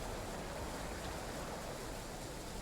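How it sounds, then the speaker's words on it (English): A burst water main on the Glossop Line in Train Sim World 3 gushes as a steady, broad rushing hiss of water, constant and fairly faint throughout with no talk over it. "Ah, there's the burst water main."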